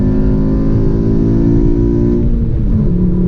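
A 2012 Mk6 Volkswagen Golf 2.5 engine revs hard and high to 7,200 RPM, its pitch climbing steadily before easing back down, loud, with no voices.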